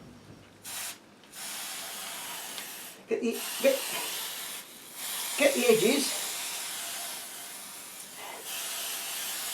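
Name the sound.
spray mount aerosol spraying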